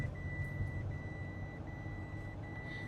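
Inside a car, a seat belt warning chime beeps steadily in a regular repeating rhythm, clear but moderate in level over a constant low road and engine rumble, with no speech.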